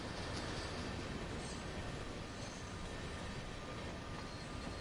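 Train in Train Sim World on the Ruhr-Sieg Nord route, a steady broadband rumble of rolling wagons heard nearby, continuous and even throughout without any speech.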